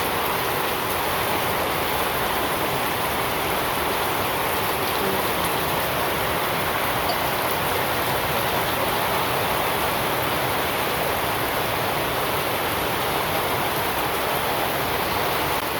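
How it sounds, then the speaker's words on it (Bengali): Heavy rain pours steadily in a village home, a dense, loud and unbroken hiss of downpour with no talking. "সকাল থেকে বৃষ্টি কারে কই বাবারে বৃষ্টি রে আজকারও বাড়ছে"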